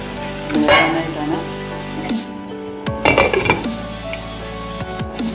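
Water poured into a hot pan while cooking okra curry hisses in two sharp bursts of sizzle, the first strong, the second following a few seconds later, over a steady tonal hum.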